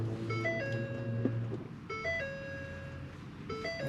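A 2015 Ford 6.7 Powerstroke diesel truck sounds its ignition-on chime: a repeating sequence of clear electronic tones, played three times over a low idle hum, close and fairly loud, with no talking.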